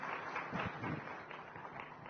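An audience at a Chhattisgarh government event applauds to welcome a minister to the stage, a faint, distant, steady wash of clapping that continues evenly throughout.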